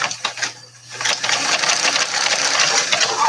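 A sewing machine stitches a zigzag seam on a makeup pouch, a close mechanical whir with rapid needle clatter that pauses briefly then runs steadily.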